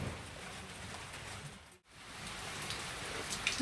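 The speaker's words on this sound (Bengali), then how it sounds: "বৃষ্টি জোর আরও বেড়ে গেল ঝমঝম করে বৃষ্টি পড়ছে" Heavy rain pouring steadily outdoors, a dense continuous patter on surfaces that fills the whole stretch, fairly faint overall with a brief dip near the middle before resuming.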